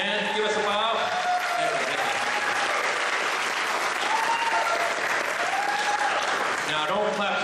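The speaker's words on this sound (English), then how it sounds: "Now don't clap too long" Sustained audience applause at an awards event in Toronto honoring the event chair, dense and continuous clapping from a large crowd, with a voice speaking over it and a faint tonal sound running through.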